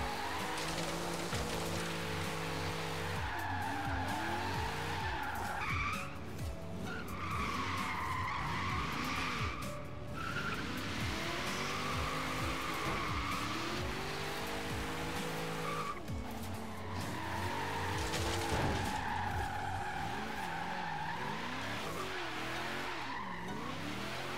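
A 1967 Chevelle SS in Forza Horizon 3 skidding with the e-brake held, long continuous tire squeal over a droning engine that rises and falls in sweeping waves, loud and close throughout.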